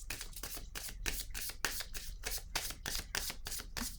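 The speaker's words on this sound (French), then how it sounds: "Je vais piger maintenant une carte noire par curiosité." A deck of cards is shuffled and a card is drawn, producing a rapid run of crisp, close riffling and flicking sounds that stay steady and fairly quiet, with no voices.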